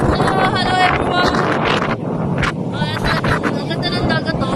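Strong wind buffets the microphone at the Cape Greco sea cliffs in Cyprus, a steady loud roar with gusty rumble throughout, with people chatting faintly in the background.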